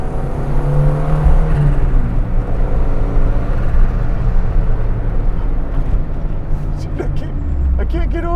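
A 1989 Lancia Delta Integrale 16V rally car of about 200 horsepower drives along, its engine droning loud and close inside the cabin with a steady roar of road and wind noise, while occupants talk.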